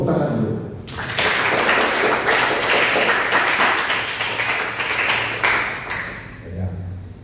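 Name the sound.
congregation clapping hands in church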